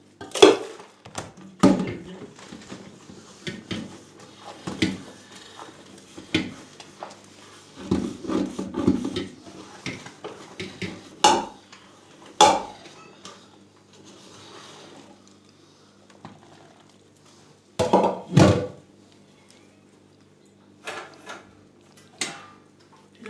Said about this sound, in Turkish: Tencerem buna da bir dakikada yıkandı arkadaşlar.